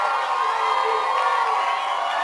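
Crowd at a high school football game between North Kitsap and Kingston cheering from packed bleachers on both sides, a steady dense roar of voices and shouts held at even loudness throughout.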